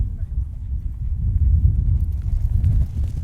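Horses walk at a bloodstock sale, their hooves giving a low, muffled clip-clop under a steady outdoor rumble, with a person talking over it.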